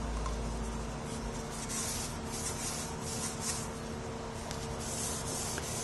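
Continuous close rubbing and scrubbing of a paper towel dampened with paint thinner over a repaired carbon bicycle frame, a steady dry friction hiss with slight rhythmic swells and no speech.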